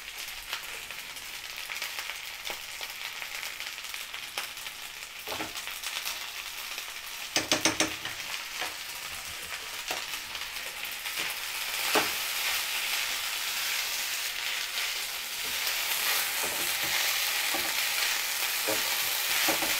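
Food stir-fried with soy sauce over a high flame sizzles loudly and constantly, with sharp scraping stirs and clinks of the utensil against the pan, and no speech.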